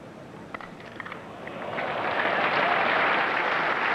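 A cricket crowd at Lord's applauding a six during the England v New Zealand Test match in 1990, clapping swelling from a few scattered claps into broad sustained applause across the ground.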